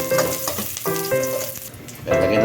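Onions fry golden brown in a pan, a close, steady sizzle with bursts of crackle, accompanied by some tonal background sound.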